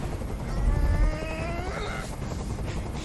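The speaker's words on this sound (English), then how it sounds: "Tell that helicopter to get out of here!" Helicopter noise in Detroit: Become Human, a loud, steady rumbling drone with a droning tonal whine, filling the clip without a break.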